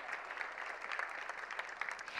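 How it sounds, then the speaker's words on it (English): Applause rises from the audience at a student technology award presentation, an even, moderately distant patter of many hands clapping without speech. "Give them another round of applause."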